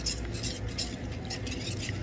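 Sohan halwa mixture being stirred with added water in a kadhai, a steady scraping and sloshing of the spoon against the pan running continuously at close range, with no talk.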